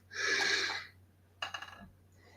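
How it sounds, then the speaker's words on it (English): A person gives a long, breathy yawn that swells and fades over most of a second, followed by a few short, quiet breaths against a low steady hum. "I apologize for yawning."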